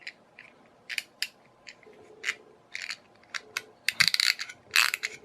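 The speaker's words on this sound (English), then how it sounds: "Different type of cam effect here. I think we can still see it operating." Wind-up clockwork mechanism of a cheap bath toy fish or croc, heard close up as a series of sharp ticking and ratcheting clicks in irregular bursts, some louder clatters near the end, with no talking.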